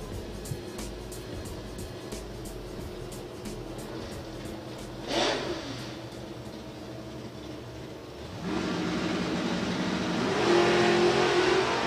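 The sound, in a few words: drag racing cars accelerating off the green light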